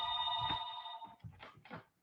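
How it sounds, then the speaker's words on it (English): A telephone bell rings steadily for about a second at moderate distance in an indoor classroom, then fades as faint voices and room noises follow. "Just a minute till that phone stops ringing."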